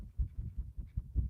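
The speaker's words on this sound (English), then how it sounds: "That was actually just a turkey feather. I was waving it in front of my ear." Soft, rapid whooshing pulses close to the ear, about six low, muffled flutters in an even rhythm, from a turkey feather swishing through the air.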